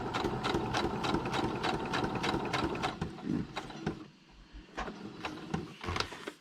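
A sewing machine stitches a small butterfly onto paper, running in a fast, even, near rattle, pausing briefly and then starting again in shorter bursts.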